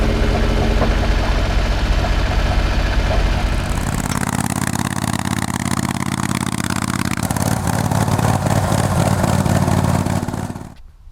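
A Suzuki Carry engine runs steadily with only the muffler on the exhaust, a loud close droning rumble that shifts in tone partway through before cutting off abruptly at the end.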